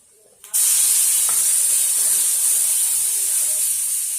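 Spinach greens hit a hot pan and set off a sudden loud hiss. The steady sizzling steam holds close and bright throughout, with faint clinks underneath.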